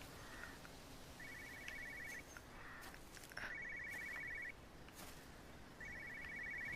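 An in-game telephone rings in Everybody's Gone to the Rapture, three repeated bursts of trilling electronic bell separated by pauses, over steady ambient hiss with soft footsteps.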